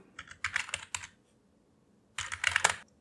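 Typing on a computer keyboard comes through as two close bursts of quick, crisp key clicks separated by a second of silence, with no voices.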